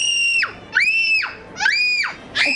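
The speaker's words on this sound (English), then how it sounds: "Just stop screaming." A child screams loudly and repeatedly, four long piercing wails in a steady rhythm, close and alone.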